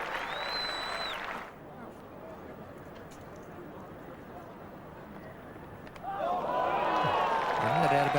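A cricket crowd applauds Allan Lamb's hundred for England against India in the 1990 second Test, a broad, steady wash of clapping between stretches of a commentator's voice at the start and end.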